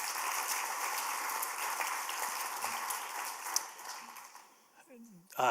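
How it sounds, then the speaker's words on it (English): An audience at a writers' series talk applauding, a dense steady wash of clapping from many hands that fades out near the end before a voice begins speaking. "So please give a round of applause."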